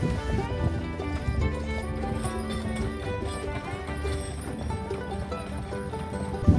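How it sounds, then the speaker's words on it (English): A four-horse team lopes up a mountain pass, rhythmic hoofbeats and harness jingle carrying steadily beneath a dense layer of music-like tones, with occasional louder thumps. "We ended up loping most of the way up the pass."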